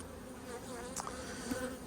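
Honey bees buzz steadily around an open hive during a spring colony inspection, a dense continuous drone with a few individual bees passing close to the microphone.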